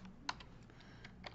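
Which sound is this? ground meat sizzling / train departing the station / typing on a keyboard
typing on a keyboard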